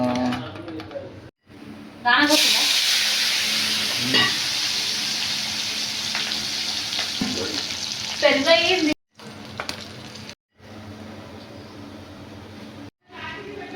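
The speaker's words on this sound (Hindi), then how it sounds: "गरम तेल को ढकली दियो पाटिया माछ को भाजी आण" Patia fish pieces sizzle loudly after being placed in hot oil for a fish curry, a steady close crackle with a few sharper spikes. Speech runs through, and the frying cuts out briefly several times.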